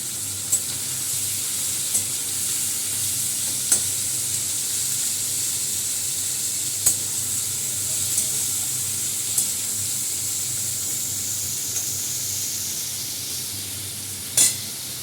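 Garlic and salt frying in a hot pan give a steady, soft sizzle and hiss that runs throughout, with occasional faint clicks and taps of a utensil and no talk.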